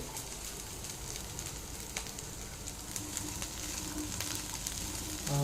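Soft, steady sizzling of boiled sweet corn frying in butter in a pan, with occasional faint pops and crackles and no voices.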